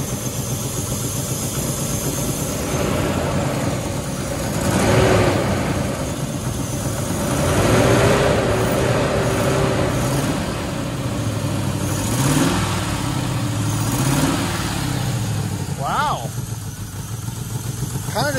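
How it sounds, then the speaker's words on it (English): A 1997 Land Rover Discovery engine running after a tune-up, a steady mid-pitched rumble with a few gentle swells in revs, close by, with someone talking over it. "Sounds like a normal motor."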